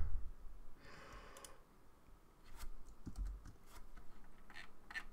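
Typing on a computer keyboard, faint irregular key clicks in quick small clusters, close and soft with no talking.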